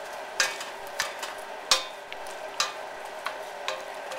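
Butternut squash pieces are stirred into a Quorn curry in a pan, giving a series of scraping clinks from the utensil against the pan over a low background sizzle, about eight distinct strokes, fairly close.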